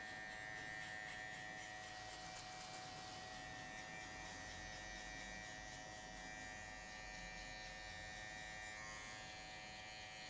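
Electric hair clipper with a guard buzzing steadily and close while cutting a mid fade, a continuous even hum for the whole stretch with no talking.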